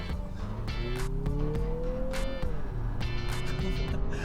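A 2025 Mazda CX-50 Turbo engine accelerating under throttle, a steady, loud engine drone whose pitch climbs and then eases, with continuous road and tire noise and no talking.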